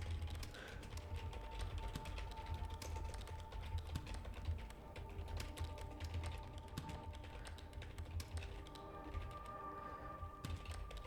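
Quiet, steady typing on a keyboard, with a stream of small clicking keystrokes running continuously at a low level with no voices.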